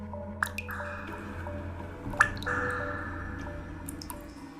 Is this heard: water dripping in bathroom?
yes